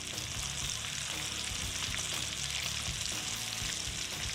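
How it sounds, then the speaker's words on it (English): Bacon crackling in a hot pan for double cheeseburgers, producing a dense, continuous sizzle with fine popping, steady and close for the whole stretch, with no voices. "We're gonna wait for bacon to cook"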